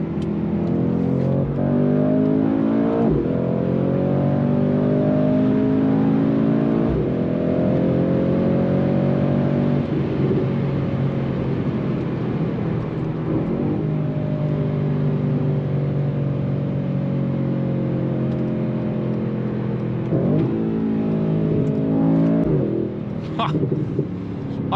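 Engine of a 2018 Mercedes-AMG C63S with a petrol particulate filter, heard while driving: a loud, sustained cabin engine note with rising and falling revs and gear changes throughout, close and constant beneath occasional talking.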